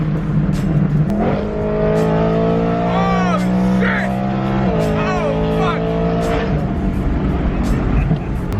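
A BMW M3 accelerating hard, its engine note rising and shifting through gears, loud and close from inside the car, with voices talking over it.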